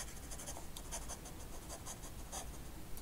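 Fast writing with a Bungubox Dandelion Sailor fountain pen fitted with a 14K gold H-M nib, a steady close-up scratchy rustle of nib on paper with faint rhythmic stroke accents throughout.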